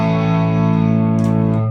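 An electric guitar plays through Axe-Fx models of a Super Verb and a Band Commander amp running in parallel, giving one sustained, loud chord with a chorus-like shimmer that rings steadily throughout.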